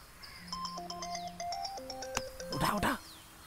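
A phone in a Hindi-dubbed South Indian action film rings with a melodic electronic tune of quick stepped tones that plays steadily for about three seconds, fairly close and clear, with a short burst of voice near the end.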